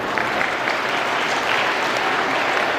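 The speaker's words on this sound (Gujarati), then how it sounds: "ચાલો તમારા માટે જોરદાર તાળી." Hearty applause from staff and audience at a school campus assembly in Amreli, with even, continuous clapping at moderate loudness throughout.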